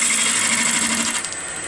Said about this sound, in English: you start with the flute and the bevel's just touching, and you roll the tool into the cut